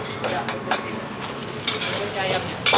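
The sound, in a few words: stir-frying mustard greens (sawi) in a pan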